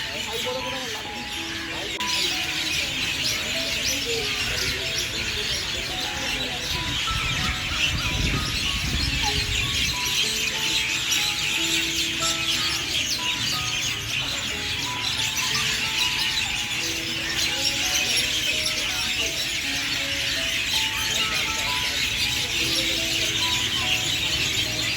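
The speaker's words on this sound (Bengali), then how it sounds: "কিচিরমিচির করে চারিদিক থেকে শুধু পাখি ডাকছে।" Birds chirping and calling on all sides outdoors, with steady overlapping tweets throughout, partly under a person talking.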